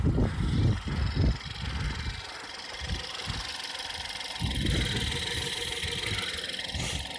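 A car engine with direct injection and a turbo idles just after restarting during intake valve and turbo cleaner application, a low steady rumble with some uneven knocks and surges early on, heard close up.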